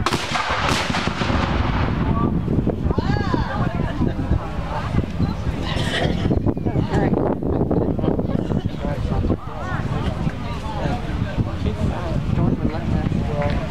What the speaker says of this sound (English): Fire the battery!